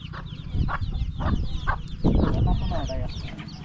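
Chickens cluck in a village yard on a sandy river island, several birds calling in short bursts close by, with a person talking over them.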